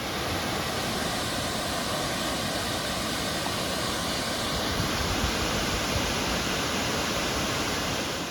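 The Ethipothala waterfall near Nagarjuna Sagar gives a constant, dense roar of falling water that stays loud and unbroken throughout.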